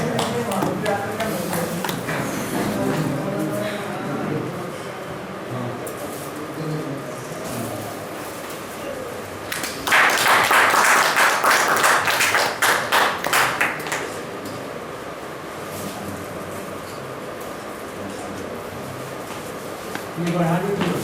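A short burst of audience applause rises for a few seconds at an outdoor press-club festival gathering in Madhubani, amid ongoing talk and background bird cooing.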